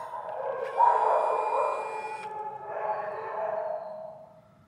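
An excited dog at the kennels lets out a long, high, wavering whine that rises and falls over several seconds, close and fairly loud, with no one talking.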